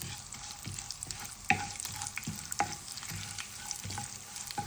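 Cumin, mustard seeds, dried red chillies and chana dal frying in hot oil, a continuous crackling sizzle with regular scraping strokes of a stirring spoon, close and fairly quiet, with no voices.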